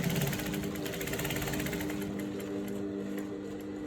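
A sewing machine runs steadily while stitching a pant waistband about 2.5 inches wide, a close, continuous mechanical whir with a rapid needle rhythm throughout, no talking.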